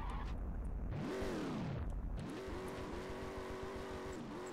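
Engine of a Chevrolet Corvette C3 in the video game Drift Paradise, loud and close, revving up and falling away, then climbing again into a steady high drone, with a hint of tire squeal.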